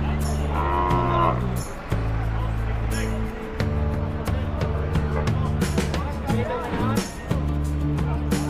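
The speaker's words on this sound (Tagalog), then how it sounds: "makakakita lang sari-saring baka. Iba't ibang laki, kabayo, kalabaw, kambing, pag-araw ng Biyernes." Cattle at a Friday morning livestock market, with several loud drawn-out moos from nearby animals repeating across the scene over a busy background of people talking and occasional vehicle noise.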